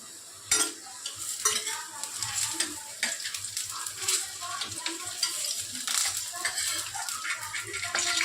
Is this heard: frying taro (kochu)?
yes